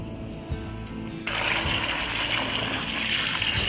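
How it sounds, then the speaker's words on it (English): A garden hose runs into a bucket of degreaser soap and water holding wild hog skulls, beginning with a sudden broad gush that keeps up a steady, close, loud rush of filling water after a quiet start. "We'll turn the hose on."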